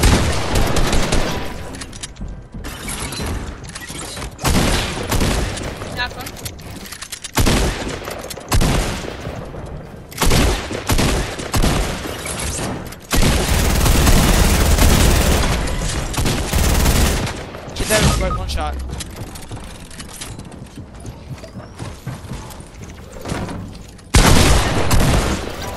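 Loud gunfire in the video game Fortnite, repeated bursts and rapid volleys of shots with booming impacts, broken by short pauses, dense and close throughout.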